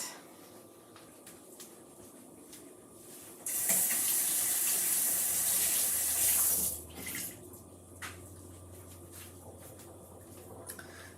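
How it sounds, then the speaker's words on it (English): A faucet runs loudly for about three seconds in an otherwise quiet room, wetting a board eraser, then shuts off, leaving a few faint clicks and small handling noises. "I'm going to go get my board eraser wet."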